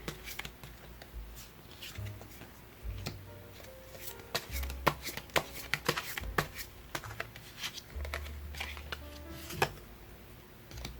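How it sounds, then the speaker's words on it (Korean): Tarot cards shuffled and drawn by hand close up, soft papery riffles and flicks with light taps on a table, scattered through the whole stretch under faint room noise. "여기에 대해서 이제 또 추가 카드를 뽑아보도록 할게요"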